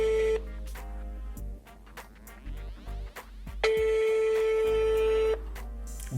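Telephone line tones on a call to the Moroccan consulate: a brief tone, a stretch of garbled line noise, then a long steady ringback tone, all close and fairly loud over a constant low hum.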